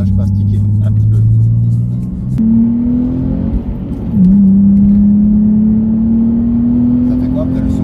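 A Nissan 370Z engine accelerates up close, its note rising steadily, briefly dropping around a gear change, then climbing again in a smooth, continuous drone.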